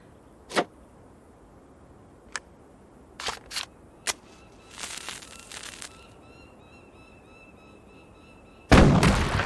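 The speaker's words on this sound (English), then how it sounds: "If the gates aren't too thick, a shot from this cannon should break through them" Cannon fire aimed at a gate in the video game Legendary Tales 4, with a few sharp reports and clatters at intervals, then a loud burst of noise near the end; no talk over it.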